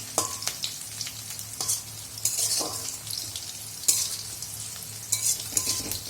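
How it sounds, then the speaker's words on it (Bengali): Garlic frying in oil for a Bengali taro greens (kochu shak) dish, a steady close sizzle broken by several sharp bursts of stirring and crackle, with no talking. "রসুনটাকে ভালো করে ভেজে নিতে হবে"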